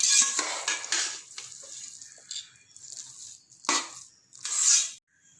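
A metal spoon scrapes and clanks against a pot of ven pongal in irregular strokes, with scattered clinks and soft stirring noises close by.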